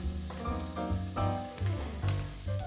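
Soup simmering in a pot, a soft steady sizzle and bubble running through the clip, overlaid by clinking, rhythmic tonal knocks from nearby kitchen activity.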